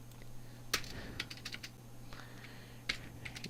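Typing on a computer keyboard, a quick run of close key clicks with short pauses between bursts, heard alone without talk.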